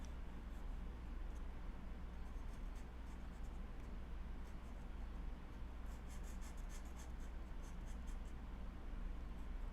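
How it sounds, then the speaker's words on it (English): Graphite pencil dragged lengthwise and rolled across paper while shading an elephant drawing, a soft continuous scratchy rasp with faint intermittent strokes, close and quiet, alone with no talk. "as I drag along the length of the pencil here, I'm rolling it to continually engage kind of a sharper edge"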